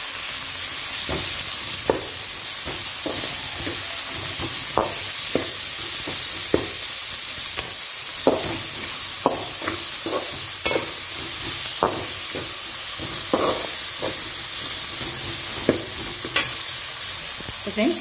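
Tomatoes fry and sizzle in a pan of mushroom and potato curry, a steady bright hiss broken by repeated scraping and clinking stirs of a spoon against the pan, close up throughout with no talking.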